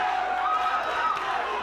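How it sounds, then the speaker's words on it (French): One side of a live wrestling crowd chants for the wrestler Chase Ironside, a brief, continuous wash of massed voices echoing through the arena. "Et l'autre côté de la foule scande pour Chase Ironside."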